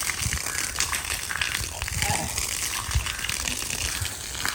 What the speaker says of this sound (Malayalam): വെള്ളം പൈപ്പിൽ കൂടി തിരിച്ച് ഒലിച്ചിറങ്ങിയിട്ട് ബേക്കിൽ വരുന്നുണ്ട്